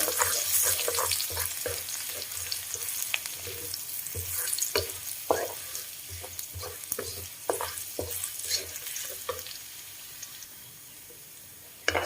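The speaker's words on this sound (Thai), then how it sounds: "ผัดกระเทียม" Garlic with salt stir-frying in a little oil for stir-fried papaya with egg, a continuous nearby sizzle broken by frequent scraping and clinking stirs, with no voices.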